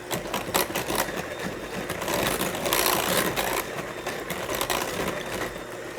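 An electric mixer whirs continuously through chocolate drop cookie dough, a dense buzzing drone that swells slightly in the middle, with no talking.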